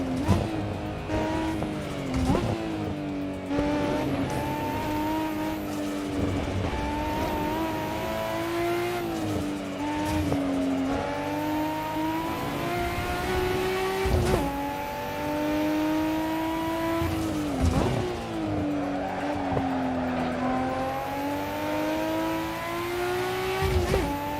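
Race car engines in the Assetto Corsa sim rev loudly and steadily while overtaking on the Nordschleife. Pitch rises and falls through gear shifts, with brief tire squeal and no voices.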